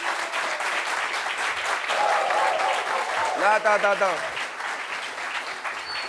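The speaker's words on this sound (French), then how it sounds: "Applaudissements pour elle, s'il vous plaît." Audience applause for Jada Dia, a trader known to everyone, as she is introduced as a guest on a French-language talk show; steady clapping fills the clip while people speak over it.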